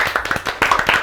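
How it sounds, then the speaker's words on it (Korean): A brief burst of audience clapping at a corporate talk event, quick uneven hand claps running together for about a second, fairly close and without speech. "박수와 함께 모셔보도록 하겠습니다"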